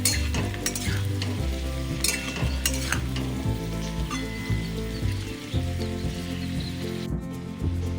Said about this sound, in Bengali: পেঁপেটা হালকা লাল লাল ভাজা হয়ে গেছে